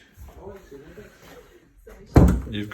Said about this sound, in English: so I can close this door here